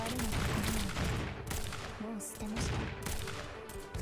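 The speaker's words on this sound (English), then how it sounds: "Cannon." Heavy cannon and gunfire from a real-time strategy battle with anti-tank weapons and striders, booming in repeated bursts over continuous battlefield noise, with a voice speaking underneath.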